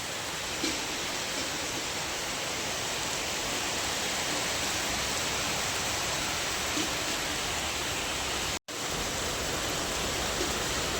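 Steady, heavy rain pours down in a dense, continuous hiss, loud and unbroken apart from one brief cut, with no voices.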